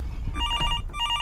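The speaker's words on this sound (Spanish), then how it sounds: "¿Pero no que Tommy dijo que el teléfono no funcionaba?" A telephone in a horror video game rings with bright, trilling electronic bursts, two short rings close together over a low rumbling background.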